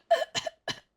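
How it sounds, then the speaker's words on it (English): A man coughs in the Genshin Impact video game near a volcano, three short close hacking bursts in quick succession with brief pauses between them. "This man is coughing, Paimon."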